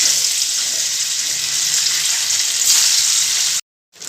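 Paneer pieces frying in hot oil give a steady, close sizzle with broadband crackle. The sizzle runs unbroken for about three and a half seconds, drops out briefly, then comes back at the end.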